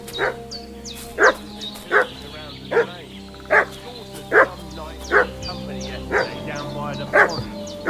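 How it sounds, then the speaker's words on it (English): A dog in the Kingdom Come Deliverance 2 video game barks again and again at a steady pace, about ten sharp, loud barks over a low ambient hum of the game world. "What's that dog making such a fuss about?"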